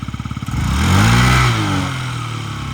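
A fuel-injected Yamaha Jog SA36 scooter engine idles with a rapid putter, then revs up briefly and settles back to a steady running drone, close by.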